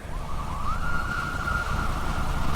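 A police car siren wails in a steady rising and holding tone over low traffic rumble during a pursuit, loud and continuous with no talking.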